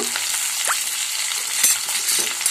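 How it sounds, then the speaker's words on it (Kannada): Onions and curry leaves fry in hot oil in a pan for a traditional lentil broth, a close, continuous crackling sizzle with scraping stirs and sharp spatters throughout. "ಇವಾಗ ಈರುಳ್ಳಿಯನ್ನು ಸೇರಿಸ್ತಾ ಇದ್ದೀನಿ ನಾವೆತ್ತಿಟ್ಕೊಂಡಿರೋ ಕರಿಬೇವು"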